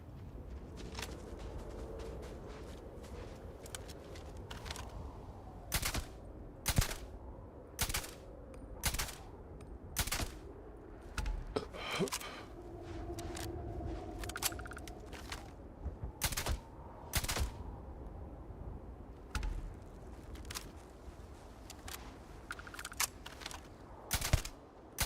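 Silenced weapon fire in Starfield, a run of short, sharp, suppressed shots that come in separate spaced bursts over a low game ambience, moderately loud and close.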